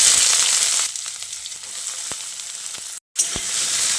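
Chopped onion hitting hot oil already tempered with cumin seeds, a bright sizzle that softens and settles into a lower crackle with scattered pops and a brief gap of silence.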